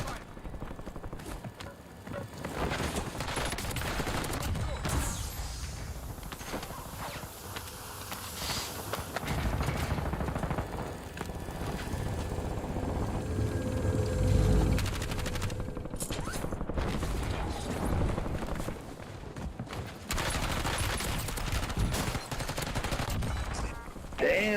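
Gunfire rattles through a Warzone video game match as the player comes under attack, with dense, continuous bursts of shots and footsteps mixed into busy, loud game noise.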